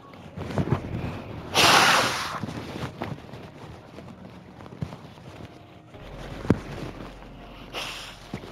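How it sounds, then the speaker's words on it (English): A person blows their nose with a short, loud, breathy burst near the microphone, followed by quieter rustling and a second faint blow toward the end. "I'm going to try to blow my nose"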